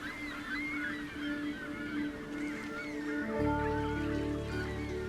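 Gulls gather in large numbers along the Niagara River, a chorus of overlapping calls and squawks above a steady rushing of water, moderately distant.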